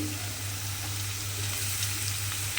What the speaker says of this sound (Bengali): এই আলুর সঙ্গে পেঁপেটাও একসঙ্গে একটু ভেজে নেব